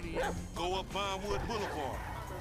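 Dog barks and yips in GTA V gameplay, a few short bursts with whimpering tones, heard close over a background of game sound.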